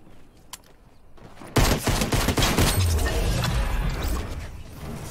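Gunfire in the Fortnite video game: a quiet moment with a lone shot, then a sudden loud burst of rapid automatic fire and crashing impacts that keeps going densely for several seconds.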